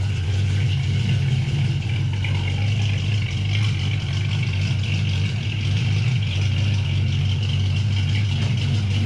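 A Ford Foxbody Mustang engine idles with a steady, even low rumble, close and constant with no revs or talk.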